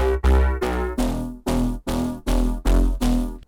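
Short synth bass patch named Short Bass FM Crunch from a Vital soundbank, playing eight punchy, evenly spaced notes with gritty FM harmonics and deep low end, loud and alone.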